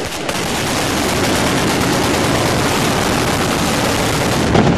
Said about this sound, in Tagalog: Ang mga rebelde ngang ito pinagbabaril ang mga gusali sa Abu Salim District sa Tripoli, Libya.